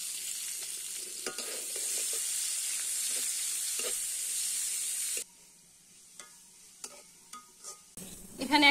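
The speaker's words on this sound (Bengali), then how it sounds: "এখন পেঁয়াজ কুচি দিলাম।" Chopped onion goes into hot oil already tempered with bay leaf, green chillies and cumin, giving a steady loud sizzle that drops sharply halfway, then soft stirring clicks and scrapes in a home kitchen.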